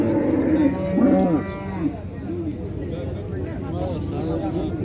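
Cattle and calves moo at a Qumsangir livestock market, several loud lowing calls near the start followed by lighter, scattered moos, with people talking and bargaining underneath.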